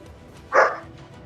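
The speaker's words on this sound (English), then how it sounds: "That's Buddy the Wonder Pup in the background letting us know that he's still here too." A pet dog named Buddy gives a single short bark in the background, moderately loud against a quiet room hum.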